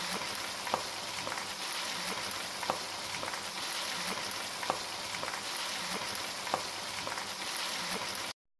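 Lahori chargha chicken frying in a pan, a dense, even sizzle with faint regular pops and ticks spread across the clip, close-up and uninterrupted, no voices, ending abruptly.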